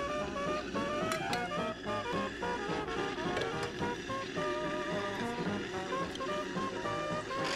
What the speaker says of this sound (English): I'm just running some hot steam through that.